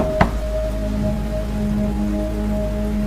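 Steady rain pouring in a cartoon scene, a continuous dense hiss with one sharp tap near the start and a faint tonal hum running beneath.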